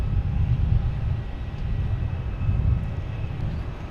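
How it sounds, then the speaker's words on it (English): A JetBlue Airbus A321neo jet airliner at Boston Logan Airport, bound for Fort Lauderdale, produces a steady, deep engine roar with a faint high whine above it, heard at moderate distance as one continuous rumble with no talking. "we got a JetBlue here heading to Fort Lauderdale, an A321 Neo"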